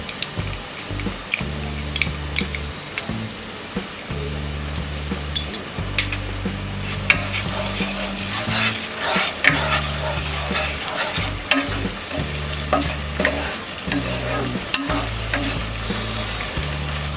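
Ginger garlic paste sautéed with softened onions in a hot pan for kodo millet khichdi, a loud continuous sizzle broken by repeated scraping strokes of a spoon, close up with no talk.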